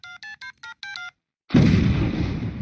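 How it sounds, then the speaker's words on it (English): A cell phone is dialed: five short, clear keypad tones in quick succession, a brief pause, then a sudden loud burst of broadband noise that lingers and fades. "I'm gonna call Mahmoud right now on this cell phone he gave me."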